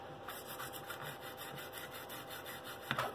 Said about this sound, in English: We will try to get in here and scrub. We'll scrub it.